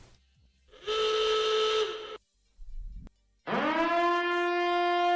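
Evacuation alarm sounding in loud steady tones, first a sustained blast of about a second, then a brief low rumble, then a second tone rising into a strong continuous wail, with no talking.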